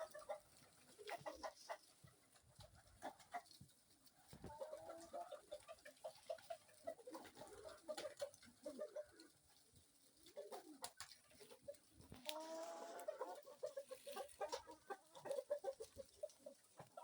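Kienyeji chickens on a poultry farm cluck and coo as they come out to feed, a busy flock of soft, overlapping calls with irregular bursts, nearby but fairly quiet, with no talking.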